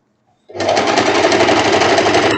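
An overlock sewing machine starts up abruptly after a moment of quiet and stitches a dress with a loud, steady, fast mechanical whir and rattle that runs to the end, with no talk.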